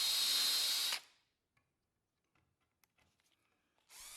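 A power drill bores pilot holes into wood for cabinet screws, one loud whirring burst for about a second, a quiet stretch with faint clicks, then the drill spinning up again at the end.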